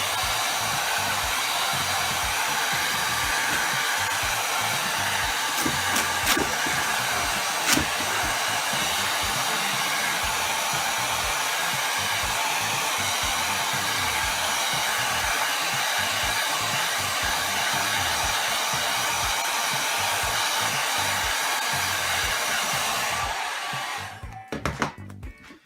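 A heat gun blows a steady close roar of hot air while warming vinyl wrap on a Porsche tail light, running continuously until it cuts off near the end with a few handling knocks.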